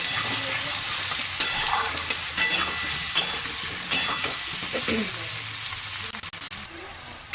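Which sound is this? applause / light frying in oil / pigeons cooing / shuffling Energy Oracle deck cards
light frying in oil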